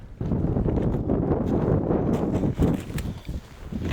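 Steady wind buffets the microphone outdoors during a shore-casting fishing outing, a continuous low rumbling roar with a few gusty swells and no talk.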